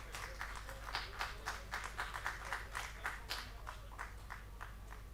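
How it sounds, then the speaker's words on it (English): Audience applause for a speaker at an industry-academia conclave: a crowd claps in a fairly loud, uneven patter with distinct individual claps standing out over a low steady hum from the hall. "Please give a huge round of applause for the sir."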